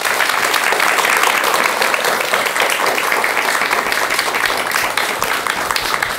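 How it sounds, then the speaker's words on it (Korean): Sustained applause from a seated audience honoring a speaker at the close of a Korean Buddhist lecture program, dense steady clapping filling the whole stretch at full loudness with no pause. "오늘 정말 좋은 말씀 해주신 정사님께 여러분 큰 박수 부탁드립니다"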